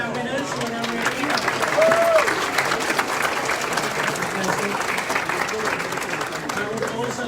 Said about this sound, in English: A big round of applause for all of our winners.